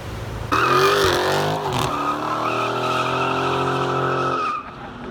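A 2011 Chevy Silverado with a 5.3L V8 and Flowmaster 40 Series exhaust, giving one loud, close rev that rises sharply, holds a strong droning note for about four seconds, then cuts off.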